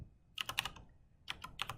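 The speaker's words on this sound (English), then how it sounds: "then I'm going to type" Two short bursts of computer keyboard typing, a handful of crisp close key clicks in each, quiet, with a brief pause between.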